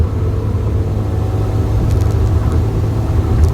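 A Nissan Altima, running without an O2 sensor, is driven hard in third gear, its engine a loud, steady low rumble with deep droning harmonics heard from inside the car, unbroken by speech.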